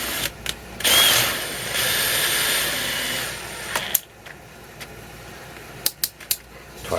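A drill with a depth stop bores into a bass guitar body for a neck install, a steady whirring grind for about four seconds, followed by a few sharp clicks and clanks as the drill is adjusted.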